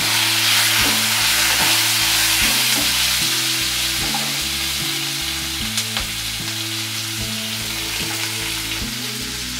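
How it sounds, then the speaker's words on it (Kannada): Onions fry and sizzle hard in a pan while tomato rice is cooked, a loud, steady crackle with occasional stirring and clinks of a utensil, and no voices. "ಈಗ 1 ಬೌಲ್ಗೆ ಆನಿಯನ್ ಹಾಕ್ಕೊಳ್ಳೋಣ."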